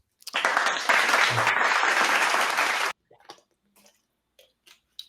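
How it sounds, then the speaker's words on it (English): A loud burst of clapping and cheering lasts a couple of seconds, then cuts off abruptly, leaving a few faint scattered clicks. "big round of applause to the 69, and big round of applause to it being 10 episodes."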